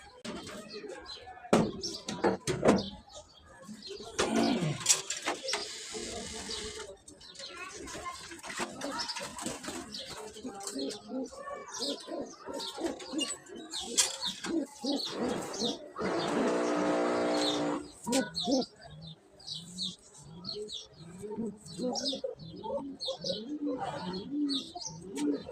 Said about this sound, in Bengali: কবুতরটা অনেকদিন আগে বিক্রি করে দিছিলাম, সেই কবুতরটা আবার ফেরত আসছে।